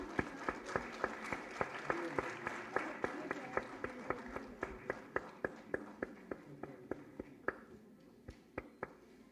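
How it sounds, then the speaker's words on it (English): Audience at a university women's event ceremony clapping in a steady, fairly sparse rhythm, individual claps distinct over a soft background murmur, moderately quiet and continuing for several seconds. "give a big round of applause, everyone."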